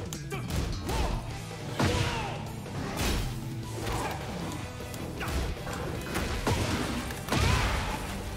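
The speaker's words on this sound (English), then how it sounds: "Did that even shatter the glass?" Sharp smashing impacts and crashes from a Tekken 8 fight, including a glass shattering stage effect, land in quick succession over several seconds amid whooshes and thuds, loud and punchy.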